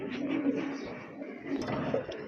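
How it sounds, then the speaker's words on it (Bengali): Giribaz pigeons coo at a pigeon market, a steady low cooing that runs continuously for a couple of seconds amid busy background noise, fairly close but not loud. "আরেক জোড়া কবুতর দেখতে পাচ্ছেন গিরিবাজ কবুতর"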